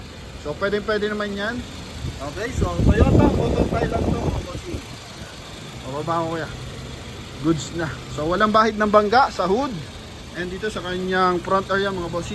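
Toyota Fortuner gasoline engine idling at a steady low hum beneath near, continuous talk, with a brief louder rumble partway through.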